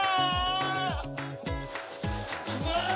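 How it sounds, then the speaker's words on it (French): Goats on a small farm bleat loudly and close by, several overlapping wavering cries following one another in quick succession. "Ce matin, je suis toujours avec mes petites chèvres."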